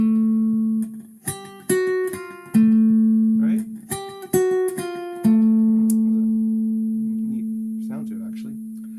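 Plucked guitar notes follow one another in a loose made-up melody, each attack ringing out with clear harmonics and long decay, and the last note sustains into silence; a brief spoken word falls between the notes.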